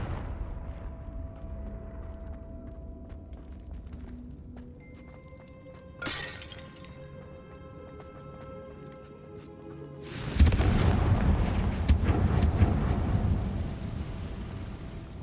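A Confringo blasting spell explodes in Hogwarts Legacy: a short burst is followed by a loud, sudden broadband blast with a sustained crackling, rumbling tail. Low steady game ambience plays underneath, and no one speaks.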